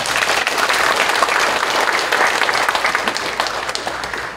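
A church congregation applauding at an ordination thanksgiving service marking a church's 65th anniversary, a loud, sustained wash of many hands clapping that fills the room without a break.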